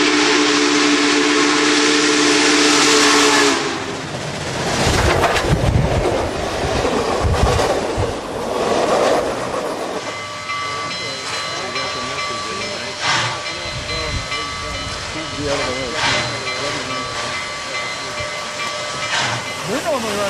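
Southern Pacific 4449 steam locomotive hauling an 18-car train, loud and close: a long steam whistle blast, then chuffing, hissing steam and rolling wagon clatter, with faint voices in the background.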